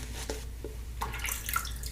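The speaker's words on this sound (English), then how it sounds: "I am just dripping just a few drops on there, just to help lighten up the soap a little bit." A few water drops dripping onto a puck of Meißner Tremonia Himalayan Heights shaving soap while building a lather, small soft splashes spaced irregularly across a couple of seconds, close and fairly quiet.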